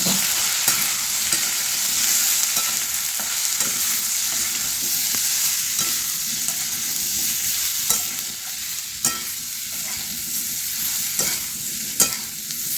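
Papaya stir-fried with chili powder and turmeric in a pan for a Bengali ghonto: steady, loud sizzling hiss broken by scraping spatula strokes and occasional sharper clicks, with no voices.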